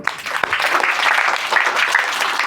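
An audience at a Tamil-language self-responsibility lecture claps together in a dense, steady wave of applause lasting the whole moment, fairly loud, with no talking over it.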